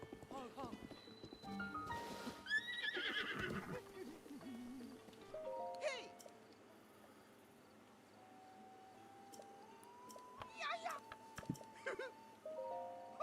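Horse hooves clip-clopping at a gallop in Zelda: Breath of the Wild, with a brief neigh, set amid game music and effects while people talk over it.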